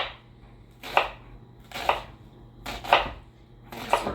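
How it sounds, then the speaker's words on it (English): A knife cuts down through an onion on a cutting board, four crisp, evenly spaced slices roughly a second apart, close and clear over a quiet room. "Sort of hold my onion together and then run my knife down and it sort of holds its shape"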